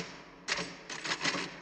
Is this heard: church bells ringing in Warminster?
no